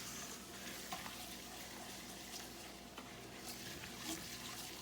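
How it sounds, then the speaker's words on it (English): A silicone whisk stirs flour into bacon grease in a pan for gravy, a steady close wet swishing and sizzling hiss that continues evenly throughout without pauses, with no talking. "And just keep whisking it."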